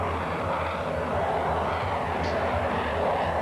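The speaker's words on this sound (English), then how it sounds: "Military jets are loud, there's no muffler." A military jet flies overhead with a steady, loud, broadband engine roar that holds constant through the short stretch.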